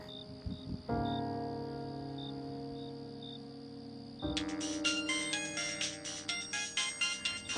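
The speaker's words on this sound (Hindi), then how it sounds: "माँ का फोन आ गया" A melodic phone ringtone plays clearly, a sustained tone that shifts to a brighter, busier jingle partway through, with no voices.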